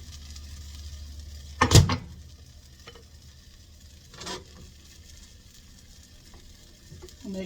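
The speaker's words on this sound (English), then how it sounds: "I'm going to go ahead and try to fry the rest of this" Banana and egg pancake batter frying in a pan, a soft continuous sizzle broken by a sharp close clatter of utensil against pan and a fainter scrape later on.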